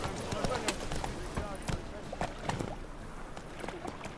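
Horse hooves clip-clopping at a steady ridden pace in The Witcher 3: Wild Hunt, fairly close, with some game chatter and background ambience mixed in.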